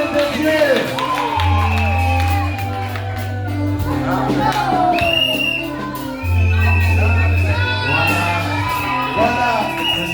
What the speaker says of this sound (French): Acclamons pour le nom de Dieu